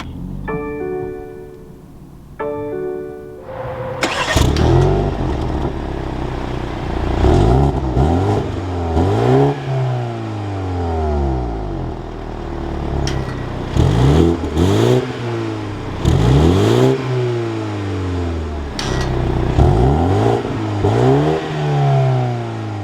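A 2022 BMW 230i Coupe chimes twice, then its engine cranks and fires, settling into idle before a series of sharp revs that climb and fall back repeatedly, loud and close.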